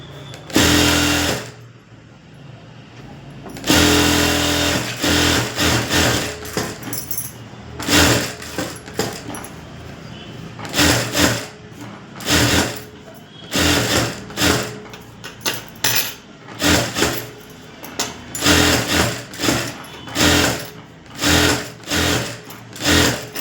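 A sewing machine runs in repeated bursts, stitching a lining around a half-inch margin on a Baahubali-style garment, its loud rapid mechanical whirr starting and stopping close by with short pauses between runs.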